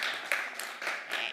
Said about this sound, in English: Big round of applause for Karen, who's doing amazing work.